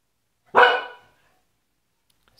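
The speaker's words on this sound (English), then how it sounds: "Sorry about the barking." A single loud bark from a female dog, close and sharp, indoors, followed by silence.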